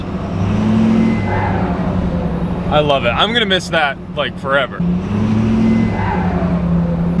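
A low, steady pickup truck engine rumbles throughout, swelling slightly with revving at the start and end, while a person speaks briefly over it in the middle.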